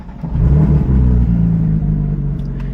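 A Porsche GT3 RS engine fires up with a loud, close rumble that swells quickly and then settles into a steady, throaty idle.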